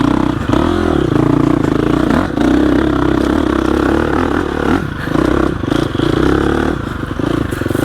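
A 2021 GasGas EX 350F dirt bike rides over rough off-road terrain, its engine droning loudly and steadily up close, with revs rising and falling and rattling, scraping clatter as it bumps along.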